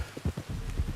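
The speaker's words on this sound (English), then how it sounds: "You were right about the damn rain." Rain falls steadily in the video game Red Dead Redemption 2, with soft low patters and drops over a constant wash of sound.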